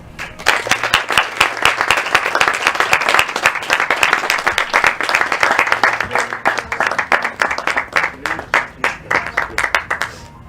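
Loud, sustained applause from a large audience honoring graduates at a 2020 school diploma ceremony, dense clapping continuing steadily for about ten seconds with no speech over it.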